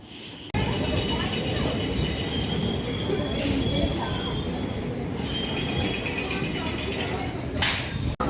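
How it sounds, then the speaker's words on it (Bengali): Khardah railway station platform in West Bengal has a constant loud rumble of a passing train and squealing wheels. Brief higher screeches rise over the din, and it cuts off abruptly at the end. "দাঁড়িয়ে আছি স্টেশনে"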